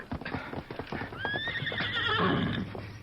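Horses' hooves clip-clop in a quick, close rhythm, then a horse lets out a long, rising whinny over the steady hoofbeats, with a rustling gallop building toward the end.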